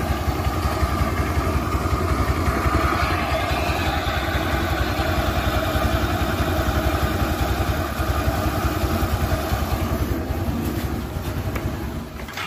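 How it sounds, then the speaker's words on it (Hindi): A 2010 Suzuki Access scooter engine idles steadily close by, a rapid even putter with a faint mechanical clatter, continuous throughout. "ये देखो इंजन का साउंड।"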